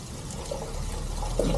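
Water poured into a pot to heat on a propane stove while making breakfast outdoors, a steady soft trickle and splash at low level with faint background noise.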